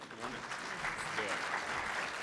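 An audience applauds Mayor Alan Joines at a Project We Care community program, steady clapping held at a moderate, even level throughout with no pauses.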